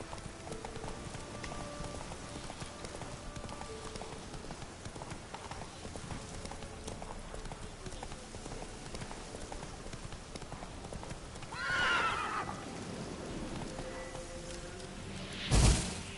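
Steady hoofbeats of a horse ridden at a gallop in The Witcher 3 continue throughout, with a brief louder swell near the end.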